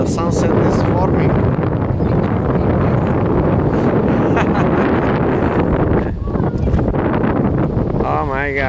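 Strong wind in Key West batters the microphone with a constant loud roar and rustle for the whole stretch, with no gaps.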